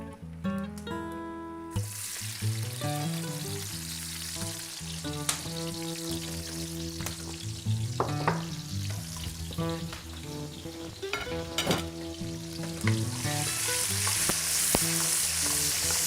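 Garlic, olives and capers fry in oil in a pan, giving a loud, steady sizzle that runs the whole time with scattered crackles and pops and a few clinks of utensils.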